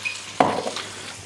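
Spinach wilting in butter in a pan gives a short burst of sizzling and stirring, loud at the start and then settling into a softer fry.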